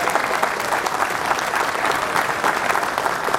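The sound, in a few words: audience applause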